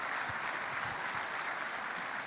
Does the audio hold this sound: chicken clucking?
no